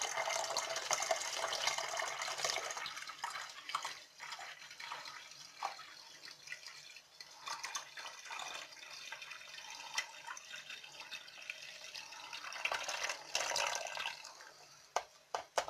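Apple juice pours steadily into a bottle for homemade apple mead, a continuous close splashing, gurgling flow lasting several seconds that swells in places and then tapers off near the end.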